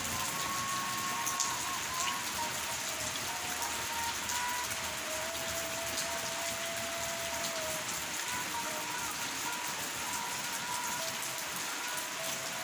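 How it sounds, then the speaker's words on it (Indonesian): Steady rain falls in a village, a continuous dense hiss of drops on surfaces lasting throughout at an even moderate level, with no voices. "Suasana hujan."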